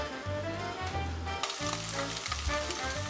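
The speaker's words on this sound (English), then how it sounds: "they've been sizzling for a little bit and they're sticking to the bottom of the pan" Vegetables sizzle and crackle in a hot frying pan, a continuous close hiss with a low hum beneath and occasional pops.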